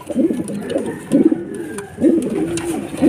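A racing pigeon arriving at the loft in a derby coos up close, repeating a low, rolling call about once a second.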